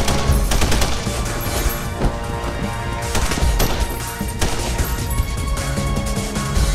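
Rapid gunfire in The Punisher video game, dense overlapping bursts of automatic shots and single cracks firing nonstop at close range and high volume, with no talking over them.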